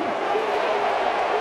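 A boxing arena crowd cheering during a Wilder heavyweight fight, a dense, loud, continuous roar of many voices with a commentator's voice blended into it.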